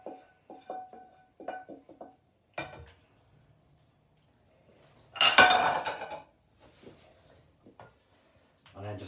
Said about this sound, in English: And now we're just going to add in your sausage and tomato mix. So just fill up your dish.